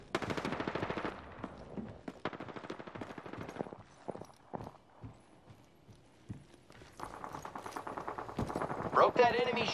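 Video game gunfire comes in clusters of rapid shots, with bursts at the start and again near the end. A voice talks over parts of it.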